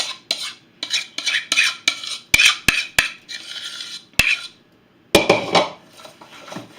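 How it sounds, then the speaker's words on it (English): Creamy cheddar cheese biscuit dough being mixed in a bowl, rhythmic scraping strokes close by with several sharp clicks of the utensil against the bowl and pauses between bursts. "now you want to take that, and you are going to mix it all together"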